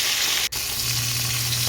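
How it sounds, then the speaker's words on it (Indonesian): Fish seasoned with instant tempe seasoning frying in oil, a continuous close sizzle with a brief dip partway through before the crackle resumes steadily. "saya sedang menggoreng ikan"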